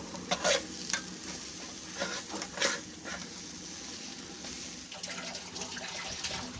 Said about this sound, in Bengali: কর্নফ্লাওয়ারটাকেও ভালো করে আমি মিশিয়ে নিচ্ছি।